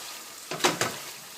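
Lomo saltado sauce stirred and frying in a pan, a low steady sizzle broken by two or three short scraping stirs.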